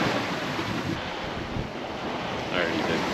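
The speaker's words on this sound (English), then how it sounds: "the waves are getting a little bit more organized, a little bit smaller" Open-sea waves washing and surging around a 29ft sailboat on an offshore passage, a steady close rush of water under strong wind noise on the microphone, with no voices.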